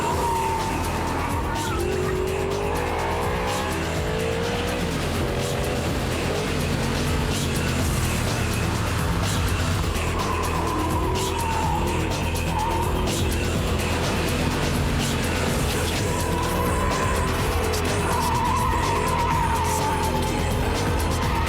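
Audi R8 V10 supercar lapping a race track at speed, engine note rising and falling through gears with tire squeal, heard from inside under constant wind and road roar.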